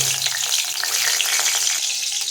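Dried red chillies and bay leaf hit hot oil in a pan while tempering spices for a vegetarian paneer curry, giving a close, steady, crackling sizzle that holds throughout.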